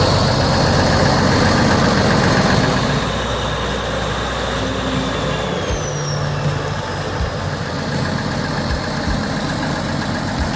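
A Ford 9000 tractor's diesel engine runs steadily with a broad, constant rumble and no breaks, close and fairly loud throughout, with no talking.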